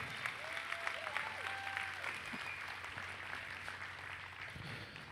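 A crowd at a livestock stock show applauds in a steady, fairly distant wash of clapping, with faint whistles and a low hum running underneath.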